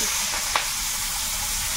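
Onion sizzling in hot oil with whole garam masala, cooked for a duck-egg dish. It makes a steady, soft broadband hiss throughout, with one faint tick partway through.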